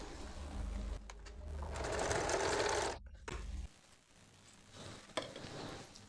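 A sewing machine stitches a folded edge of fabric, humming and whirring loudly and steadily for a few seconds, then stopping and starting again more briefly, with no talk heard.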